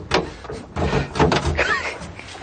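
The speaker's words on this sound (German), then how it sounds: "Tür ziehen" A car door being pulled shut with a solid thud, followed by rustling and movement close by, in a short busy clip without talk.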